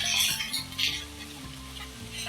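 Finely sliced onions and whole spices sauté in hot oil with a steady, close sizzle and crackle, rising and easing as they are stirred, with no voices.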